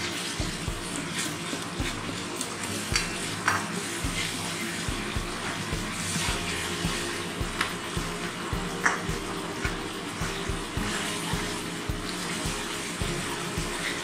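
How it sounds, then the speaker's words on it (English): Ginger paste frying in a pan for a restaurant-style mutton curry, a continuous hissing sizzle with regular dull knocks as it is stirred, steady and close with no voices. "Then after added ginger paste and fry well, mix well properly, fry well properly."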